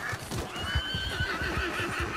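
A horse in Red Dead Redemption 2 whinnies loudly over a steady drumming of galloping hooves, close and continuous.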